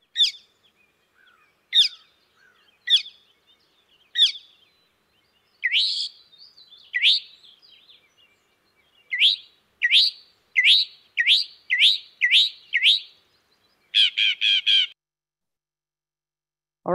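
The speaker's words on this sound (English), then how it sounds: "we have the northern mockingbird, which takes a single note and sings it five or six times, goes to a different note and sings that five or six times" A northern mockingbird sings loud, clear phrases, repeating each note several times before switching to a new one, with rapid runs of chirps toward the end and quiet gaps between bursts.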